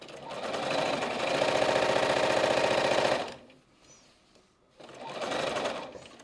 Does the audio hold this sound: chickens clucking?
no